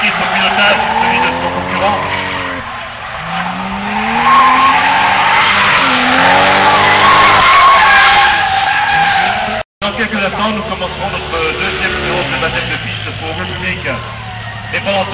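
Two drift cars, a green car and a BMW, slide side by side with loud, sustained tire squeal and revving engines whose pitch sweeps up and down, while a commentator talks over them.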